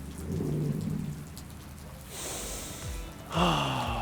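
Steady outdoor rain hisses and patters throughout, with a low rumble early on and a brighter burst of heavier rain or runoff toward the end.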